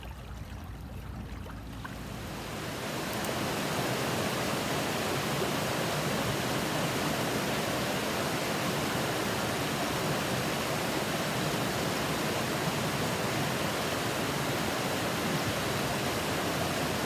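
A creek rushes in a dense, constant broadband roar of flowing water, quieter for the first seconds and then swelling to a loud, steady wash, with no talking.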